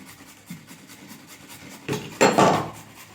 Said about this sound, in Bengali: ঘষে নেব গ্রেটারের সাহায্যে।